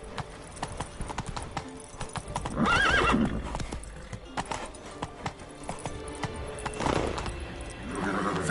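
Roach, the horse in The Witcher 3, gallops in a fast rhythmic clip-clop of hooves, close and loud, with a clear neigh breaking out partway through and game ambience underneath.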